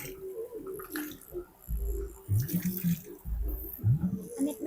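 Clothes are being washed by hand in a village river, with splashing and sloshing water in uneven bursts and some rubbing sounds, fairly close.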